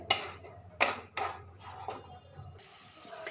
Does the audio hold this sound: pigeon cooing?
no